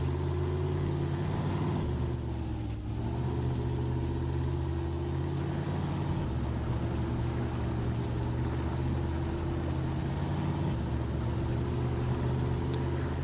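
A modded truck in the SnowRunner video game, fitted with oversized 41-inch wheels, drives with a steady, loud engine drone that holds throughout, pitch shifting slightly as it labours through tough terrain.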